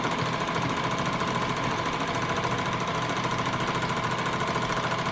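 A sewing machine running continuously for free motion quilting, a loud, even, rapid mechanical chatter of the needle, close up and unbroken throughout.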